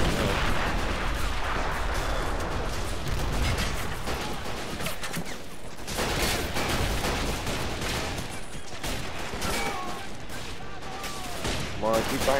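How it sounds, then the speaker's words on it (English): German artillery fire striking a street in the Men of War: Assault Squad 2 video game, a continuous loud barrage of booms and gunfire with dense overlapping explosions and a voice briefly heard. "The German artillery's hitting them in the street"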